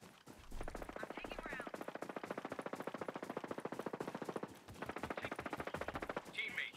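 Sustained automatic gunfire from Ghost Recon Breakpoint PvP at a PMC camp, rapid evenly spaced shots in long bursts with a brief gap, loud and close, with a voice talking over it.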